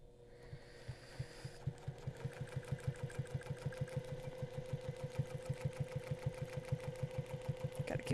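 A sewing machine stitches quilting ruler work in fast, even rhythmic thumps that keep up a steady close pulse, with a motor hum underneath.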